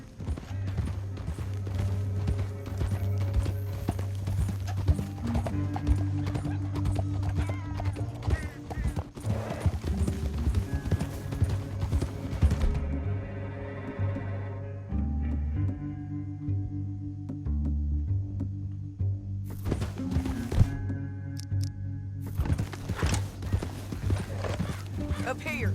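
Horse hooves clip-clop steadily throughout a Red Dead Redemption 2 ride, a continuous galloping rhythm under game music and spoken character dialogue, with a brief whinny-like tone partway through.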